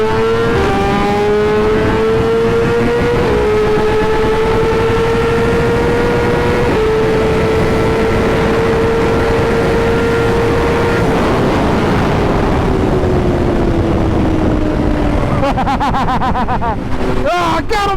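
Superbikes racing: a 2021 Honda CBR1000RR-R Fireblade SP, a Kawasaki ZX-10R and a BMW S 1000 RR, loud high-revving engine wail held at speed, pitch climbing through gears then falling, with wind roar and a voice talking over it.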